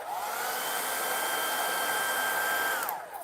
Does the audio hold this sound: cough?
no